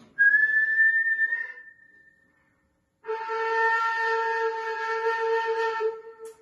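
A ney flute sounds a breathy high held note, pauses, then drops to a steady lower tone rich in overtones, played alone and close.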